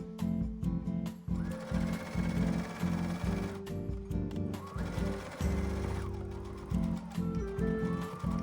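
Sewing machine stitching a collar onto the body of a men's robe, a steady close mechanical whir with short stops and restarts and a few pauses between runs.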